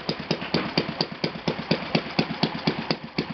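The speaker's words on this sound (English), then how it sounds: "We'll try to start an engine." Enya VT 240 model V-twin engine running on one cylinder during a start attempt, a steady rapid chugging pulse of regular sharp firing beats, close and fairly loud.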